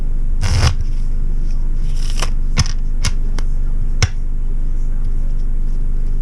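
Playing cards being shuffled by hand aboard a widebeam canal boat, a few brief crisp riffles and snaps separated by pauses, close and fairly loud over a constant low engine-like hum.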